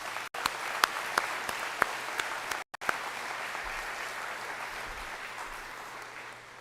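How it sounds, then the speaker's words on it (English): Audience applause at a college graduation ceremony, steady and sustained clapping from a large crowd filling the hall, broken by a couple of brief cuts. "Let's give them all one last round of applause"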